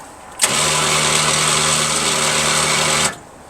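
A heavy duty truck's winch motor runs steadily for under three seconds with a sharp start and stop, giving a loud, close mechanical whine and hum.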